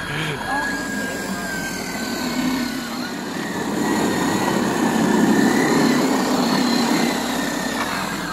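Small engines of a model boat and a model tug whine steadily while racing each other on water, the sound rising and holding throughout, with voices calling out over it.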